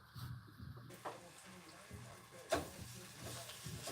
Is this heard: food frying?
yes